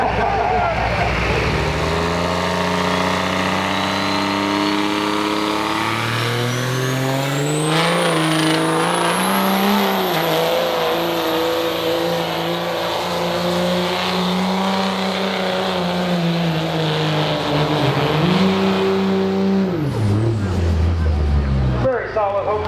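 A diesel pulling truck at a county truck pull roars continuously at full throttle for about twenty seconds, its loud engine note rising and falling as it strains down the track, with turbo whine and crowd talk underneath.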